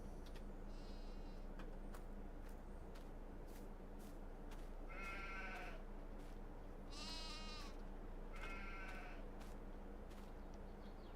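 Sheep in the farming game Farming Simulator 22 give several short quavering bleats at irregular intervals, some faint and some louder, over a steady low ambient hum.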